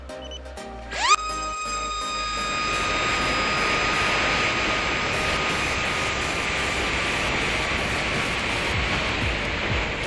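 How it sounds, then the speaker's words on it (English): A fixed-wing FPV drone's electric motor spins up abruptly on auto launch, then holds a steady, loud, high-pitched whine with a bright tonal hum and rushing wind noise for the rest of the clip, with no voices. "Auto launch sequence is a success, and now my aircraft is in return to home"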